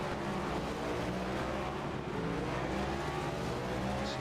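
Race cars in a sim racing video game roar continuously at close range, engines droning and shifting pitch as they speed around the track, with no voices.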